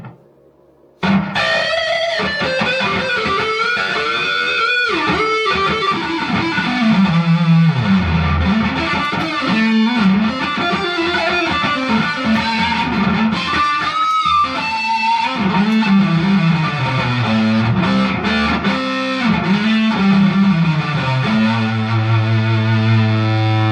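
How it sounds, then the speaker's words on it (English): Distorted electric guitar played through the neck pickup of an instrument from a collection including Ibanez, EVH and PRS models, sustained chords and single-note lines ringing loud and continuous, close and alone without talk. "And this is what distortion sounds like on the neck pickup."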